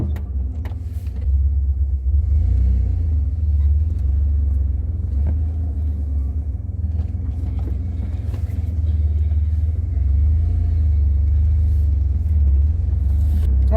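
A 1987 Ford Ranger pickup with a manual transmission driving along, its engine a steady low rumble mixed with road noise from inside the cab, continuous and fairly loud with no talking.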